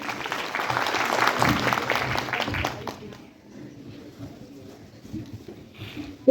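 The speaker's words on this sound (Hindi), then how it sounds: "एक बार मैम का और सर का तालियों के साथ स्वागत कीजिएगा।" Audience applause at a municipal youth dialogue event welcoming the municipal commissioner and guests, a dense burst of clapping for about three seconds that fades into quieter room noise with scattered claps.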